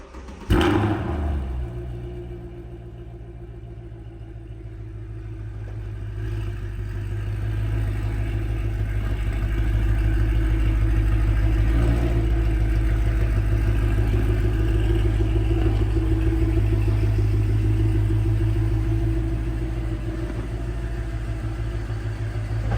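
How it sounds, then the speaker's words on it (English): A Mercedes CLK AMG Formula One safety car starts with a sharp crank and thump, then settles into a loud, deep, steady idle that swells slightly and holds for about twenty seconds, with no talk. "we're going to fire this car up, and then they're going to pull it outside"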